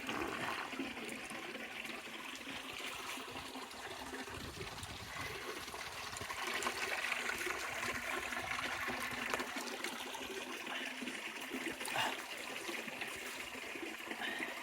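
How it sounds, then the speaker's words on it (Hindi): Water pouring from a mountain spring at Khwaja Hadar, a steady close rush and gurgle that stays even throughout, with no voices. "ये पानी तो यहाँ से निकल रहा है"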